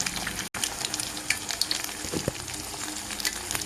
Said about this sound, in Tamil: முட்டையை உடச்சி ஊற்றியாச்சு இதில் வந்து நம்ம கொஞ்சம் உப்பு மஞ்சள் பொடியும் போட்டு கிண்டி விடலாம்